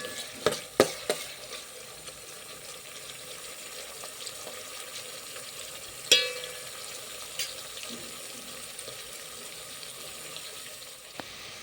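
Ginger-garlic paste frying in a pan for a village-style aloo kurma, a steady low sizzle throughout with a few sharp stirring clinks and utensil knocks, heard up close with no talking.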